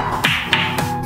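A hard frozen pear is tapped three times, giving sharp, hard knocks close up with quiet room noise between them.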